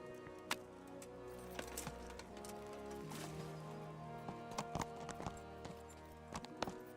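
Horse hooves clip-clop in the medieval role-playing game Kingdom Come: Deliverance, a quiet rhythmic trot of sharp taps over faint game music and ambience, with no talk.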